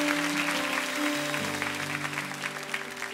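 Church congregation at a Korean church's special dawn revival service applauding steadily as the Sunday school team comes forward, dense clapping over sustained organ or keyboard tones, with no talking.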